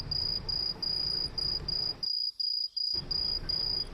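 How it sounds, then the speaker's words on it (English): A cricket sound effect chirps in steady, rapid pulses at an even rhythm, close and clear, cut off by a sudden silent gap partway through before the chirping resumes. "turn down the cricket sound"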